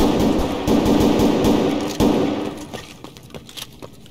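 Rapid bursts of gunfire in the video game Escape from Tarkov, with dense automatic shots at first that thin into scattered cracks and softer impacts.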